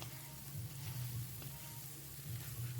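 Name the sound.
eggs frying in a pan with fried chillies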